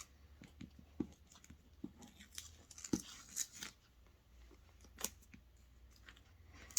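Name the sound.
scissors cutting out a fabric applique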